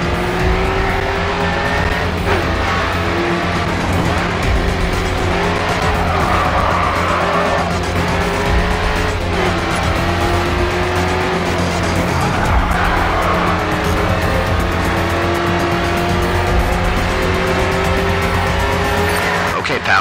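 Race car tires squeal and skid in Grid 2 racing gameplay as a car spins out ahead, with steady loud engine roar and rising and falling screeches over a continuous drone throughout.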